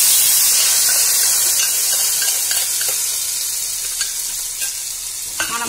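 Hot tempering being stirred into a tomato pickle hisses and sizzles, loud at first and slowly fading, with scattered scraping clicks from the stirring close up and no voices.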